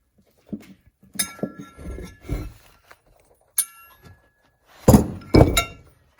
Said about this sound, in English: you drive the bearing race out